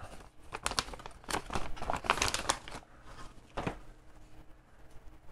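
Packaging of an AMD Radeon RX 6600 XT graphics card crinkles and rustles during unboxing, with a cluster of crisp plastic and paper crackles up close that thins out into a few scattered crinkles.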